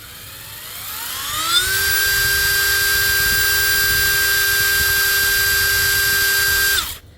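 A cordless brushless impact driver in screw mode spins up over about a second to a steady, loud high-pitched whine at full speed, holds it for roughly five seconds, then cuts off.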